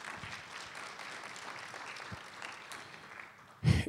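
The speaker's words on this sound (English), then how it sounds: "So let's give her another warm round of applause," Applause from a modest audience at a briefing session, soft and diffuse clapping that stays fairly quiet before ending in a louder thump near the microphone.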